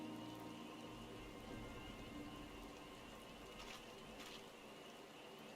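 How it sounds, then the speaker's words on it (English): Steady rain falls in the Final Fantasy XIV video game, a dense, even patter that continues without a break at moderate loudness. "Okay, I see some rain."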